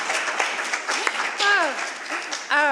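An audience at a talk with a Secretary of State applauds for a legislator, a moderate patter of clapping running beneath cheering voices and calls that rise and fall.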